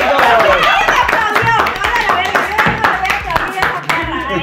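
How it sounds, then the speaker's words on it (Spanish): Applause from a live audience at a stage show as the host introduces performers, dense continuous clapping that stays loud and steady throughout, with some cheering mixed in. "¡Aplausos!"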